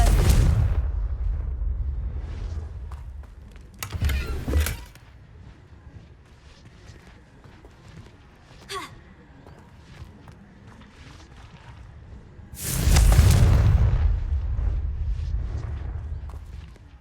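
A Confringo blasting spell explodes in Hogwarts Legacy with a loud booming burst, followed later by a second, heavier blast that rumbles on for a few seconds amid quieter game sounds.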